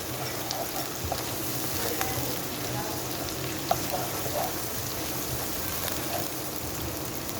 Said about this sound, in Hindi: 4 से 5 मिनट तक इसको अदरक लहसुन को इस छिलकों के साथ भून लेंगे